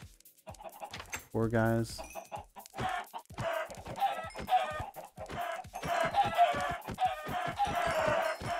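Chickens cluck repeatedly in Minecraft, a busy run of short squawks and clucks with a brief crow-like call near the start. Someone says a few words over them.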